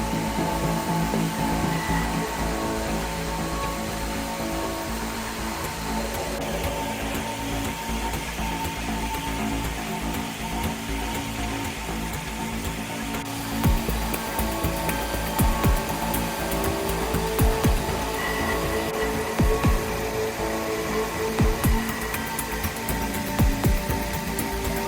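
A huge 130-ton saw cuts a 1.8-metre-diameter African hardwood tree into massive slabs, a steady loud mechanical drone with grinding and sharp crackling bursts growing stronger in the second half, no voices.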